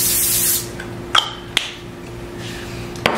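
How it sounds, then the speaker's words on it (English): Cooking spray aimed at a parchment-lined baking sheet for nachos, one short close hiss followed by a few light taps and clicks. "I'm just gonna give it a little spray."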